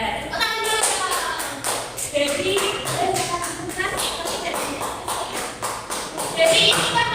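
Scattered clapping from students in a university micro-teaching classroom at FKIP Unikal, a mix of taps and shuffling under ongoing talk, rising briefly louder near the end.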